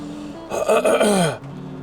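A person lets out a short, low, drawn-out nasal bellow, mimicking a moose call, rising and then sliding downward before stopping.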